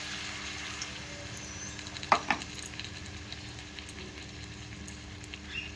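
Bottle gourd frying in a pan as ginger paste goes in, a steady close sizzle with a couple of brief stirring scrapes partway through.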